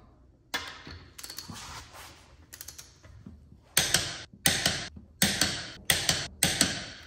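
Torque wrench clicking as car wheel lug nuts are tightened while swapping to winter tires, a few softer clicks followed by a run of sharp, evenly spaced loud clicks close by, with no talking.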